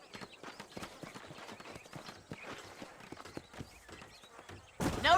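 Horses' hooves clip-clopping in the Red Dead Redemption video game, a steady run of light, even hoofbeats on hard ground, close by, ending with a sudden louder rush of noise.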